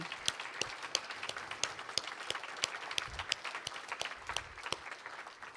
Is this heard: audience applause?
yes